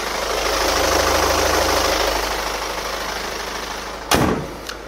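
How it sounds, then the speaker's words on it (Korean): A diesel engine in a used large sedan, registered 2014, idles steadily with the hood open, a low rumbling hum heard up close, then a couple of brief knocks or clunks near the end. "차량의 엔진 소리 듣기 위해서 본네트까지 개방해봤습니다 지금 바로 들려드릴게요"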